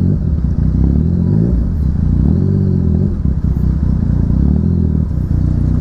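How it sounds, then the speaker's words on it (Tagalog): A loud Kawasaki Vulcan motorcycle engine rumbles nearby, idling and revving with a deep throaty pulse and slight mechanical clatter, no talking. "Wow, Vulcan. Vulcan, Kawasaki Vulcan."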